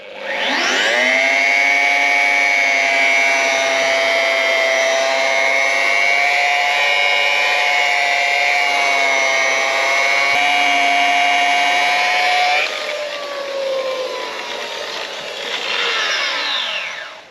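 Rotary polisher buffing compound into old paint on a 30-year-old Ford Falcon, a loud continuous whine held steady for over twelve seconds before easing slightly and revving back up, close and alone.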